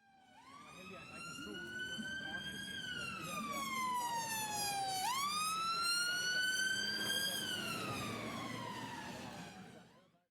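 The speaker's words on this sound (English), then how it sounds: "What you heard is the sound of the ambulance being a bit higher pitched as it approached you" An ambulance siren wails continuously, rising as it approaches and then sliding down in pitch as it passes, loud and close, with traffic rumble underneath.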